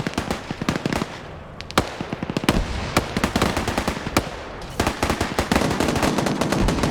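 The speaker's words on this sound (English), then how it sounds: "What are you shooting at Edmund for?" Rapid bursts of gunfire from a team shooter game match, loud and dense with sharp overlapping shots and explosive cracks throughout, no talk over it.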